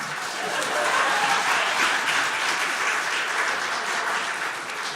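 Audience applause fills a synagogue sanctuary during a sacred-roots concert, a dense, steady wash of clapping from a sizable crowd that holds evenly for the full five seconds.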